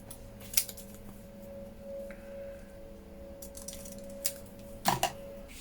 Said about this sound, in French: Je vais couper un petit peu.